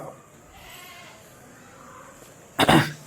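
A single loud Malabari goat bleat breaks in near the end after a quiet stretch of faint background.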